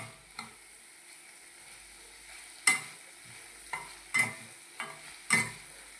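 Onions frying in a pan for palak paneer, a low steady sizzle broken by several sharp scraping stirs of a spoon against the pan at irregular intervals, with no talking.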